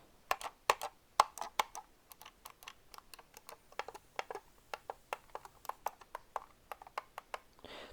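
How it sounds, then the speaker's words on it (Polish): Crisp, close plastic clicks of a computer mouse button pressed repeatedly in a quick irregular series, then a faint ratcheting of the scroll wheel at the end. "To tak brzmią kliknięcia, a jeszcze tak brzmi scroll."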